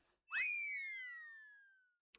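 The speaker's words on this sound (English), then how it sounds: "I love the comedic slide whistle." A comedic slide whistle from the game Fate/Grand Order sounds once, a single clear tone that jumps up and then slides steadily downward for nearly two seconds before fading out.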